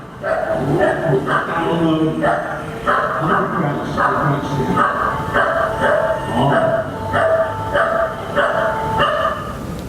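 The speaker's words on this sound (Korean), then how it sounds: "애완견을 키우면 아시겠지만 짖는 게 기분 나빠서 짖는 게 아니고 좋다고 짖는 겁니다." Dogs barking playfully in a video played during a talk on robots, repeated yips and barks running continuously throughout with some mixed vocal sounds and moderate loudness.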